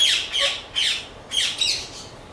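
A pair of yellow ring-necked parakeets gives four loud, harsh squawks close by, spaced unevenly over a couple of seconds.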